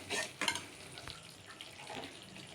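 A spoon stirs mushroom manchurian mixture with salt in a pan. A few soft scrapes and clinks sound close, with faint sizzling underneath and no talk.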